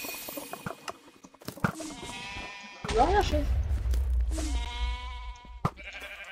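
Sheep bleats from a video game sound out in short wavering calls amid game effects and a low rumbling bed, with men chatting over the top.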